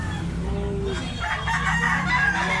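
Sweater Kelso bloodline gamefowl rooster with a red face crowing once, a drawn-out crow close by over faint background clucking and farmyard noise.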